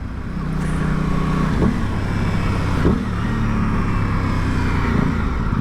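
Aprilia Tuono 660 motorcycle, 2021 model, engine droning while being ridden on fresh tyres, steady loud rumble with pitch shifts as it revs between gears, wind noise throughout.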